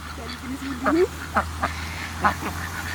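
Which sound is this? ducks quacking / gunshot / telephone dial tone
ducks quacking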